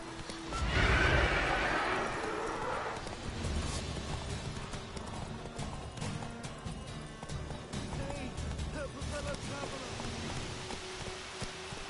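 Roach, a horse in The Witcher 3, lets out a loud whinny near the start, then hooves clip-clop steadily at a trot over a soft rain-like bed, with faint voices in the background.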